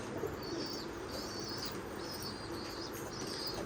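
Repeated bursts of wing flapping from a Jira Dabba pigeon at a pigeon sale, quick fluttering flurries close by with faint background noise.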